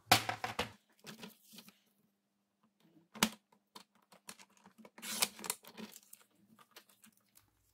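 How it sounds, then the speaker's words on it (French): Paper cutter trims excess cardstock in several short, crisp slicing and rustling bursts separated by quiet pauses, close and fairly soft. "Je vais couper avec mon coupe-papier l'excédent."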